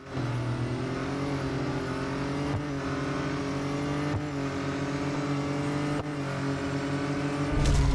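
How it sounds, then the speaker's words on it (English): McLaren Artura in a Real Racing 3 drag race, its engine held at a loud sustained roar with rising pitch through several gear changes, marked by brief dips, and no talking over it. "Let's do the drag race with the McLaren Artura."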